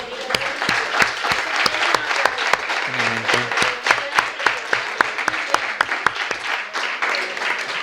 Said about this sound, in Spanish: Yo te daría un aplauso, Manuel Ramón.